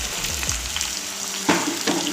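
Onions sauté in a pan for a large batch of mixed vegetable gravy. A steady frying hiss runs throughout, broken by a couple of louder scraping stirs near the middle and end.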